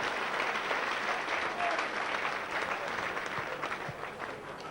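Crowd at a Bradford versus Warrington rugby league match applauding a player leaving the field, steady stadium clapping that carries on throughout.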